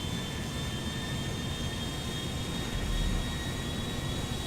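Airbus A380 jet engines roaring steadily at takeoff power in a flight simulator game, a dense continuous rumble with a faint high whine and no talking.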